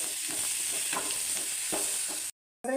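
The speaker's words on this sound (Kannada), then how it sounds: "ಟೊಮಾಟಿ ಈರುಳ್ಳಿ ಎಲ್ಲ ಮೆತ್ತಗಾಗಿದೆ ಎಲ್ಲ ಫ್ರೈ ಆಗಿದೆ" Chopped tomato and onion fry in a pan for kurma, giving a steady bright sizzle with a few soft stirring strokes. The sound cuts briefly to silence near the end, and no one speaks.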